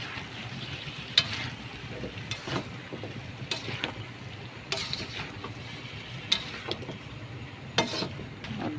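Upo and kalabasa are stirred in a cooking pan, giving a steady soft sizzle broken by repeated scraping strokes and clinks of the utensil at an irregular rhythm, close and without talking.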